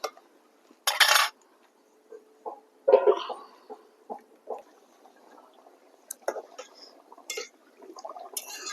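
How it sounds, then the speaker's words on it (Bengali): A lid set onto a cooking pot of pumpkin and prawn curry: a few sharp metallic clinks and clatters between quiet gaps, close and fairly faint. "এবার আমি ঢেকে দেবো।"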